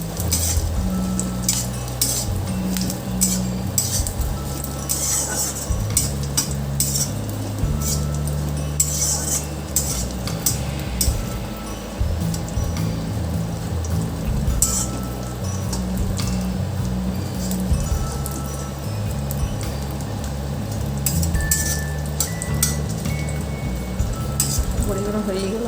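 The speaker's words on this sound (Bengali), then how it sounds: "বড়িগুলো হয়ে গেল ভাজা।" Bori lentil dumplings fry in a pan while a utensil stirs them, giving a steady run of scraping and metallic clinks with a soft sizzle underneath and a voice talking at times.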